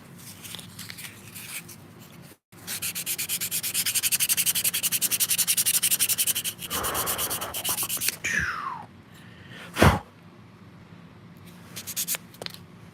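A miniature scratch-built wooden chair is hand-sanded with 400 grit sandpaper in close, steady back-and-forth rasping strokes for several seconds, then a few scattered scratches and one sharp tap follow.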